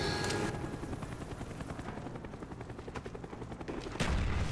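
Helicopter flying in a video game, a steady rotor chop running throughout alongside bursts of gunfire, close and loud.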